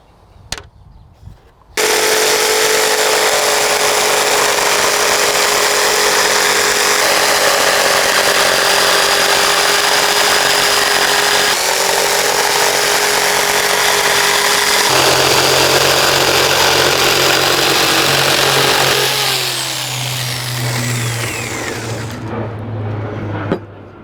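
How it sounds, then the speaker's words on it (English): Jigsaw cutting straight through a wooden board for a model railway riverbed, a loud continuous buzzing drone lasting about seventeen seconds, with the pitch shifting partway through before winding down at the end. "I'll take the jigsaw and then just run straight through the centre-ish, which would give me those two halves"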